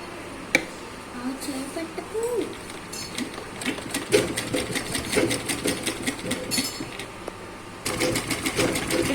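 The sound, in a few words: sewing machine stitching a blouse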